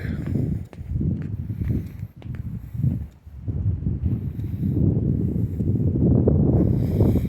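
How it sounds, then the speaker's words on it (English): Gusty wind buffets the microphone in low rumbling bursts, steady and close, with a few brief thumps and no clear voices. "It's windy."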